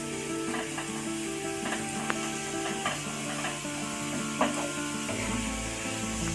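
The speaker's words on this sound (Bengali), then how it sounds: "এবার রসুনটা যখন লাল লাল ভাজা হয়ে যাবে তারপর আমি জল দেবো" Two spoonfuls of chopped garlic fry in oil in a pan, giving a steady close sizzle with light scraping and stirring taps throughout and no talking.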